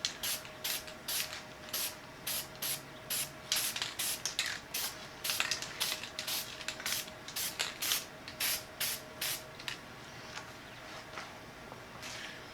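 Repeated short bursts of spray-on rust encapsulator undercoat hiss from an aerosol can onto a steel Jeep wheel in a garage, about two dozen quick puffs in a steady rhythm, close and crisp, followed by a quiet pause.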